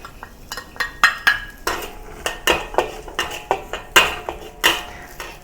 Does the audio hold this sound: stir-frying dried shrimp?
yes